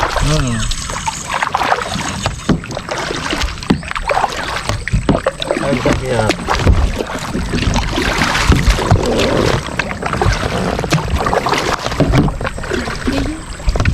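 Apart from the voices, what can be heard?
rowboat on water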